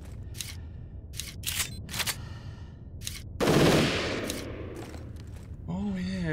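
Revolver fire in the video game Zed Zone: a series of sharp, loud shots with gaps between them and a heavier blast near the middle whose echo trails off, then a brief voice at the end.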